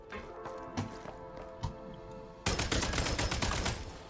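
Rapid gunfire in Genshin Impact bursts in suddenly after quieter music, a dense run of sharp, evenly spaced shots.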